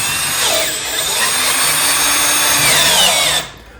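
Power drill drives screws into furniture during assembly, a loud close whine running steadily for about three seconds before cutting off.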